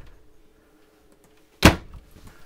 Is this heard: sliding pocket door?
yes